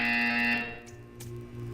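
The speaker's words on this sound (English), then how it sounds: "You will hear a buzzer." A short, harsh electronic buzzer from the video game Portal 2 sounds loudly and then cuts off abruptly.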